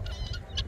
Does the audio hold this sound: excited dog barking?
no